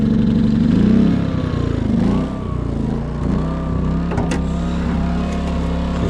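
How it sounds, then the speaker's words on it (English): A portable generator starts and settles into a loud, steady mid-pitched engine drone close by, running alone without talk at a car repair job on a 2018 Hyundai Sonata. "I'm just gonna start up my generator"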